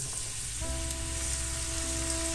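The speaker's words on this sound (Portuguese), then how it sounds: "E vou fritar também até ela ficar bem douradinha" Chopped medium onion sizzling in olive oil with a little leftover garlic in the pan, a steady close frying hiss that jumps as the onion goes in, with faint tonal hum underneath.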